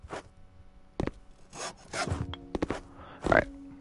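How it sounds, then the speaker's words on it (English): A handsaw cuts wooden pieces in half in a series of separate rasping strokes, close and fairly loud, with short pauses between the bursts of sawing. "Sawing these guys in half"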